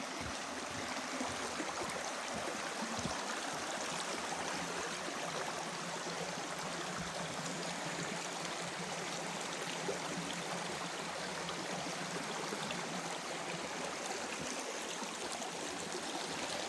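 Water of Gheerulla Creek flows steadily past a rocky crossing in a bush valley, a soft, even hiss of running stream that stays constant and fairly faint from start to finish with no voices.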